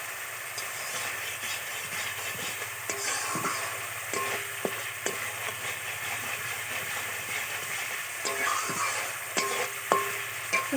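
Spice paste fries in oil for a fish-style curry, a continuous soft sizzle and hiss with occasional scraping stirs and clicks against the pan, no talk.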